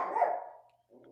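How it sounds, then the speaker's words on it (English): A dog barks outdoors, a single loud bark that fades out, followed by a faint second yelp, heard alone without talk. "I think there's a dog barking outside."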